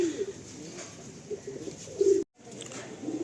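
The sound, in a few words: Kalanka pigeons cooing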